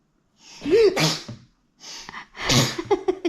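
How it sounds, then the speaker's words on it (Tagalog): Two loud, close sneezes in a row, each with a sharp inhaled buildup and explosive release, separated by a short pause. "Kanina ka pa bahing ng bahing na."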